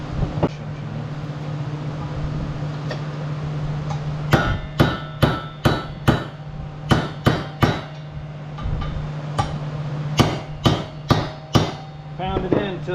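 A hammer pounds a sleeve into place during a lift kit install on a 2021 Polaris Ranger 1000. Sharp metallic blows land in quick bursts of three to five, about fifteen strikes in all, over a low steady hum.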